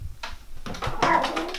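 Blue Point Ragdoll kitten meowing several times in quick succession, close and moderately loud, the calls rising and stretching toward the end, with faint handling noises underneath.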